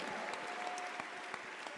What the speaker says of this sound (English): Can you first clap for this man of God?